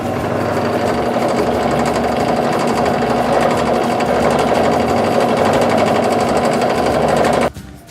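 A drill bit bores holes in oiled steel beams while building a truck frame, a loud steady whirring grind with a constant hum that runs nearly the whole time and cuts off abruptly near the end.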